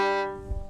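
A single off-the-string bow stroke on a bowed string instrument, played with a longer bow, gives a brief ringing note that decays quickly, close and moderately loud with no talking.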